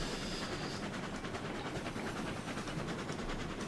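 A locomotive runs on rails with a steady, dense rumble and a faint repetitive clatter, close and continuous.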